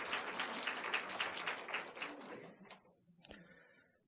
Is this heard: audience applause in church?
yes